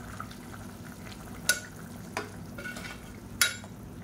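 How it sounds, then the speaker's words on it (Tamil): A spoon scrapes and stirs through brinji rice in a pot, with two sharp clinks against the side over a low, steady simmering hiss. No one speaks. "இது நல்லா கலந்து விட்டுக்கலாம்."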